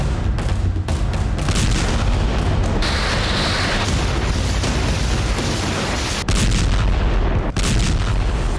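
A loud explosion in Kakhovka during the war, a heavy, sustained roar with booming rumbles and sharp cracks, followed by further blasts near the end, with no speech over it.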